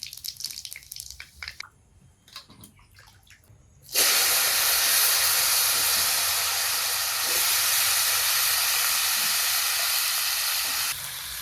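Panch phoron spices hit hot mustard oil midway and burst into a loud, steady sizzle that keeps going to the end, after a quieter stretch of small kitchen clatter.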